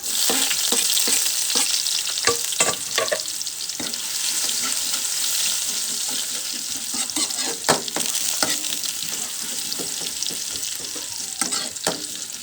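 Crushed garlic fries to golden brown with ginger added in a pan for a clam soup, a loud steady sizzle close by with repeated scraping and clacks of stirring.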